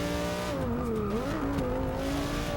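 Ferrari and Ford race cars in Forza 6 roar together in a steady high engine drone, their pitch sagging and climbing as they shift through a corner, close and continuous with no talking.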